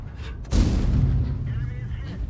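A tank cannon fires a HEAT round in World of Tanks, one sudden heavy boom that rolls on into a sustained low rumble after a brief quieter lead-in.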